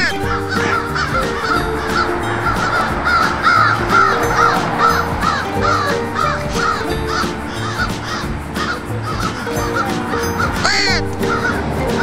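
Crows caw loudly and close by, repeated harsh calls in an uneven rhythm that continue for the whole stretch with no talking.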